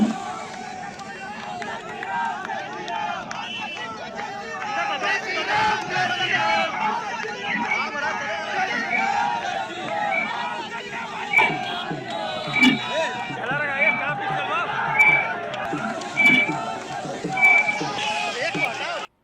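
Party workers celebrate an Uttar Pradesh election result outdoors, a loud crowd of cheering, shouting voices and babble with rhythmic chants and whistle-like tones rising toward the end, continuous and busy throughout.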